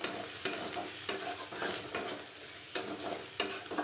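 Spicy vegetables sizzle and fry in a pan while being stirred, with a steady hiss broken by sharp scraping strokes of a utensil at irregular intervals, close and fairly quiet.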